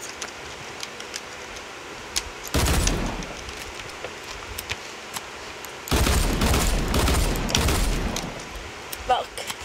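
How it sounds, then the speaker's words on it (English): An automatic gun fires in Fortnite Chapter 4 in first-person mode, with two dense bursts of rapid shots, each lasting a second or more, separated by quieter stretches with faint clicks and a low voice. "Hold it down, then it shoots automatically,"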